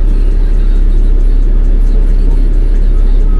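Grandpa's car, loaded with belongings, pulls away with a loud, close low rumble and whirring engine, steady throughout.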